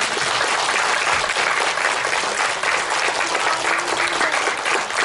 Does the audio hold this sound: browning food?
no